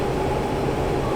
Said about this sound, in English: Currently, the sound you hear is the normal noise of an absent signal.